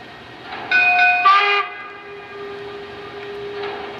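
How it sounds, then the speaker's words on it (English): A Lionel Union Pacific toy train sounds its whistle in a short loud burst, with a bell ringing alongside and a fainter whistle tail afterward, over a low steady hum. "that will get a whistle and a bell."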